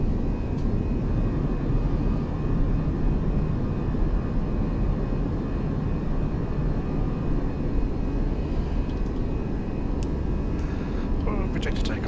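Airliner engines drone steadily as the aircraft climbs after takeoff in Microsoft Flight Simulator 2020, a constant loud broadband rumble with no breaks, and a few faint clicks near the end.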